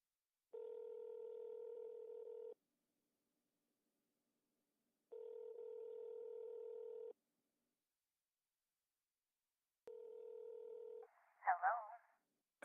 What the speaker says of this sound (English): hangs up the phone and dials